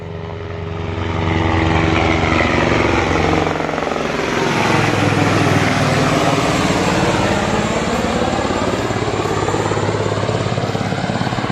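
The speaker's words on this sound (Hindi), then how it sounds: "हेलीकॉप्टर आज सुबह से लगातार चल रहे हैं भाई" A helicopter flies close by at Kedarnath, its steady rotor thrum swelling in after a second and holding loud and continuous, with a deep throbbing drone throughout.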